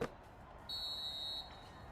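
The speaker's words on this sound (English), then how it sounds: "And that's the final buzzer." A final buzzer in the Dunk City Dynasty basketball video game sounds as a steady electronic tone that starts abruptly, holds for under a second over quiet background, then cuts off.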